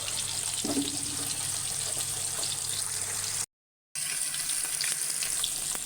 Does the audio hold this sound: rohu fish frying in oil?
yes